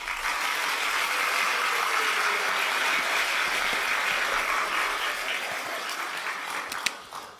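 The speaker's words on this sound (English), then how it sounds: "Just going to give a round of applause for that." A round of applause from a small group sounds as a continuous, fairly soft wash of clapping that holds steady for several seconds before thinning out, with no talking over it.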